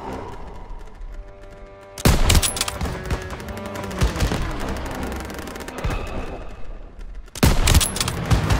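Dense gunfire in the World War II shooter Call of Duty: WWII, with heavy bursts and rapid automatic fire at about two seconds and again near seven seconds, and continuous battle noise between them.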